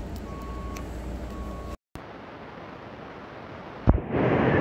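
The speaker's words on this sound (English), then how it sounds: "I got another truck pulling in." A truck pulls in outside, its reversing alarm sounding as faint, evenly spaced tonal beeps over steady rumbling noise. A sudden loud burst follows near the end.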